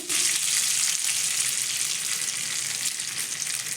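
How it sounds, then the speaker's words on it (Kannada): Mustard seeds splutter and sizzle in hot oil with red chillies added for a bitter gourd curd tambli, a steady close frying hiss with faint popping throughout. "ಸಾಸಿವೆ ಸಿಡಿಯುವಾಗ ನಾನು ಕೆಂಪು ಮೆಣಸನ್ನು ಹಾಕ್ತೇನೆ"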